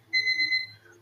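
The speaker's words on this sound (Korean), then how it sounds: "알람이 멀리 있어가지고" Alarm clock ringing at a distance in a quiet room, a steady electronic tone held for about half a second before fading out, faint and alone.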